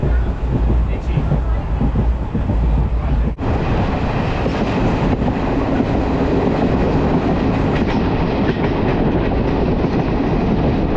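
A Jan Shatabdi Express superfast train runs at speed, its steady loud rumble and rail clatter filling the whole stretch with a brief dip partway through, heard from on board.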